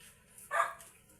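A single short dog bark rings out over quiet background noise, brief and moderately close.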